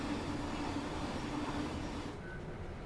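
A Class 707 electric train in the Train Simulator video game gives a steady rumbling, humming run with a faint tonal whine, continuous and fairly close.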